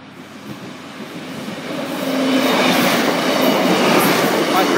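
Class 153 railcars passing a level crossing at Uttoxeter in Staffordshire, the rumble and wheel clatter building steadily and staying loud and close as the train goes by.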